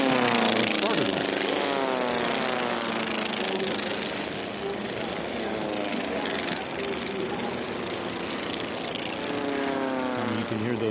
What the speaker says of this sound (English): Those beautiful engines and propellers as they come by.